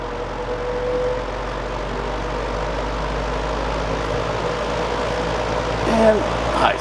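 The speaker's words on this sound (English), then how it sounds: "It's got a great turbine sound when it starts up." A 1960 Lasko 20-inch oscillating box fan runs on low speed with a steady, loud whooshing drone and a faint turbine-like hum, holding constant throughout.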